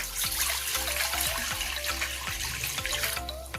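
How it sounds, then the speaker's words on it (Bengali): Water poured into a kadai wok, a loud close splashing stream with a rising gurgle as the pan fills, steady for a few seconds. "কড়ার মধ্যে কিছুটা জল দিয়ে দিচ্ছি।"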